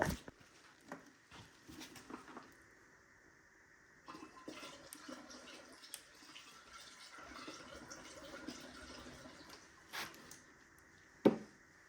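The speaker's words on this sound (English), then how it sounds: "So as I continue to pour," Liquid poured during setup of a CF1390 CO2 laser, an irregular trickling and splashing with intermittent gurgles and small knocks, fairly quiet and close, ending with a sharp clunk.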